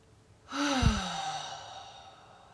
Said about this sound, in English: We're going to take some deep breaths. So in through the nose, out through the mouth.